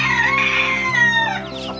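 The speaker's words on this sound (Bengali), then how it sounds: "এটা অনেক বড় জাতের মুরগিটা।" Large-breed chickens on a rooftop farm cluck and crow loudly and continuously, with overlapping bird calls close by and no talking.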